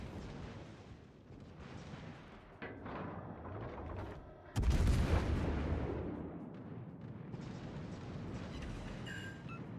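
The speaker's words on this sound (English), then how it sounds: "Focus all firepower on the marked target." Heavy naval guns boom in a World of Warships Legends battle, a dense rumbling barrage with one loud, close blast midway followed by sustained low roaring and distant thuds.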